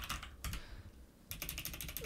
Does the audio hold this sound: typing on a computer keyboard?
yes